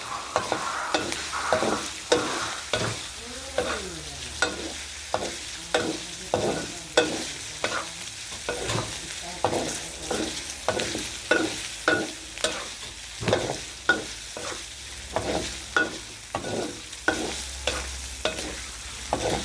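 Pork rinds frying in oil for Thai khaep mu are stirred with steady scraping strokes over a continuous sizzle, the strokes repeating in an even rhythm close by with no talking.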